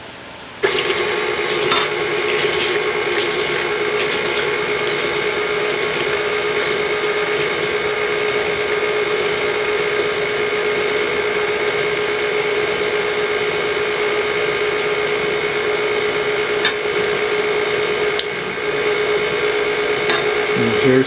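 Cake batter being mixed with an electric mixer after eggs are added one at a time: a steady, continuous motor whir lasting throughout, with faint scraping near the end.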